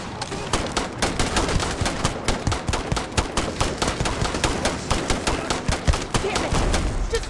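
Sustained heavy gunfire in Starfield, a continuous fast volley of overlapping shots at a steady, loud level from start to finish with no breaks.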